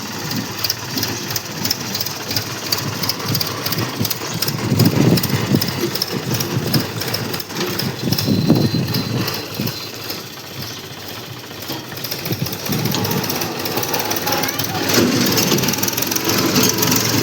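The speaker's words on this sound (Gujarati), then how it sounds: "ભાગો બા ટ્રેક્ટર આવે છે" Tractor engine on a farm path near maize fields, a steady mid-pitched mechanical drone that swells and fades over the whole stretch, fairly close and continuous with no talk over it.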